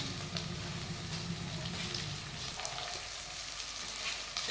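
Potatoes go into frying onion and garlic in a pan, with a dense close sizzle that drops to a gentler hiss after the addition, plus a few stirring knocks.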